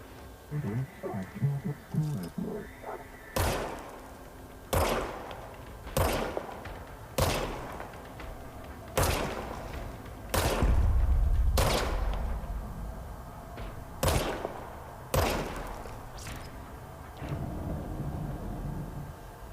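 Service weapon fire in the video game Control: about a dozen loud, sharp single shots at a steady, unhurried pace, with a low rumble under some of them and faint talk near the start.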